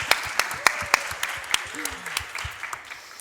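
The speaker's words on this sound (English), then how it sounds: "Big applause, please, for our speakers." A modest audience at a blockchain festival session in Croatia applauds the speakers, with distinct individual claps spaced out and thinning toward the end, while a voice murmurs underneath.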